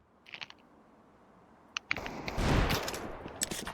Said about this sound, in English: These pistols putting in work.